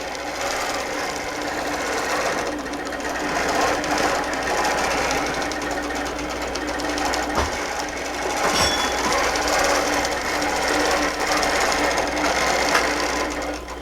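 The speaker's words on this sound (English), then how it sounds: "do a little basting stitch right inside where the binding would go" A sewing machine stitches through a quilt with a fast, steady needle chatter that runs continuously and fairly loud, with a couple of faint knocks in the middle.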